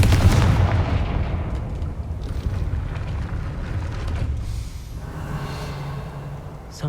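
A Confringo fire spell explodes in the Hogwarts Legacy video game, a loud, dense rumbling blast that rolls on and slowly fades over several seconds.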